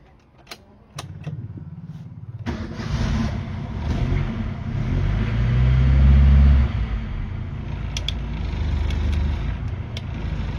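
A used car's engine at a dealer lot starts with a few sharp clicks, then settles into a steady close idle with a low rumble that swells briefly as it is revved and then eases.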